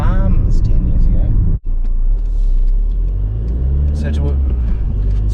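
Steady car engine and road rumble from inside a moving vehicle on a country highway, continuous and fairly loud, with someone talking over it throughout and a brief dropout near the middle.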